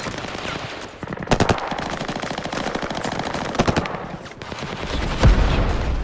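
Sustained machine gun fire from a battle scene in the 2020 war film The Outpost, with dense rapid bursts and sharper volleys standing out, loud and continuous throughout, along with distant explosions and no clear talk.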